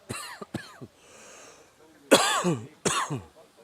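A gray mare coughs in a string of harsh, honking bursts at a stable: three quick ones, a pause with soft breathing, then two longer, louder coughs close by.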